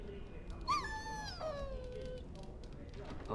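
A dog in the Dragon Age Origins video game gives a brief high whimper amid quiet game ambience, with a second short whine after it.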